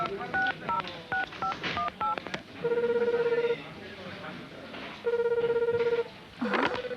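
A telephone is dialed: a quick run of short keypad tones, then longer steady tones, heard close and clear with a faint background voice.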